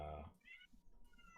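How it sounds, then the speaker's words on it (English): Domestic cat meowing indoors, a single faint drawn-out meow followed by a couple of quieter short mews, close but soft. "is that a cat? That was my cat."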